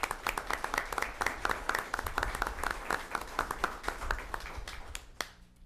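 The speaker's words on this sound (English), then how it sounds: "Let's give him a round of applause," Audience applause for a guest at a town Board of Selectmen meeting, dense overlapping clapping from a roomful of people that holds steady for several seconds before thinning out and stopping near the end.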